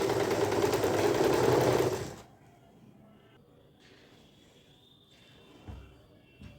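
A sewing machine stitches a night suit in a fast, loud, continuous whirring run for about two seconds before stopping, followed by quiet handling sounds and a soft voice.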